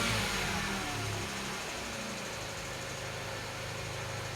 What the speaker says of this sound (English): just let it idle again